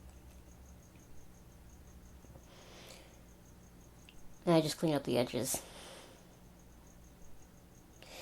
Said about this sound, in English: If you can hear crickets, I'm so sorry.